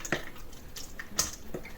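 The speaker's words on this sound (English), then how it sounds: "So I'm just going to carefully pour that in here" Spiced apple pulp is poured through cheesecloth into a colander, giving a few irregular soft wet splats and drips, close and fairly quiet.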